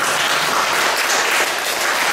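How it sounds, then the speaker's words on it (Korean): An audience gives a sustained round of applause at a lecture on North Korean nuclear disarmament, a dense, loud, unbroken wash of many hands clapping, with no voices over it. "열심히 얘기했는데 박수 한번 쳐주세요."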